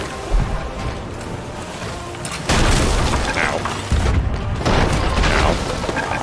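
Cannon blasts boom and crash against a ship in a rowboat cannon video game, two or three heavy impacts layered over constant rumbling water and mechanical noise, with a player's voice briefly heard.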